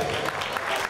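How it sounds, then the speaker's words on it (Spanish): Wedding guests applauding at a celebration in Jauja, La Piedad, Michoacán, Mexico: steady, dense clapping from a crowd, fairly close and continuous for under a second, with a little voice mixed in. "¡Fuerte los aplausos, hombre!"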